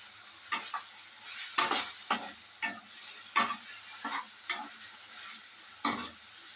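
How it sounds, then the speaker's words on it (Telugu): Spices frying in a pan with a soft sizzle underneath, punctuated by sharp, irregular scrapes of a spoon stirring, close and moderately loud, no talking. "ఇప్పుడు చూస్తున్నారు కదా, బాగా ఫ్రై అయిపోయింది"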